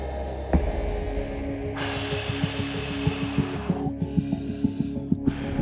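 Someone blows air onto arms stung by a fireworm: three long, breathy rushes of air, each broken off by a short pause, over a steady low hum with faint rhythmic ticking underneath.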